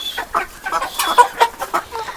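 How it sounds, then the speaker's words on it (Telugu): Farm chickens cluck close by in a quick, uneven run of short calls. "ఇప్పుడు కోళ్ళు అన్నిటిని బయటికి ఆహారం కోసం తీసుకెళ్తున్నాడు"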